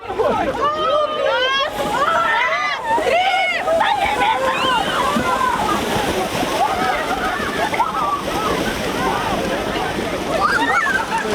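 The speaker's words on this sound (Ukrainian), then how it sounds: "Занурювались у воду сьогодні 35 вихованців місцевої дитячо-юнацької школи козацького бойового рукопашу Спас" Children from a Cossack combat martial arts school splash and plunge into icy river water at an Epiphany bathing gathering, with continuous sloshing and splashing under lively shouting voices and crowd chatter throughout.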